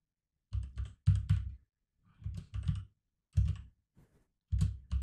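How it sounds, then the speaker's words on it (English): Bursts of typing on a computer keyboard, several quick clusters of close, crisp key clicks separated by short pauses, in a quiet room. "Let me type in something like"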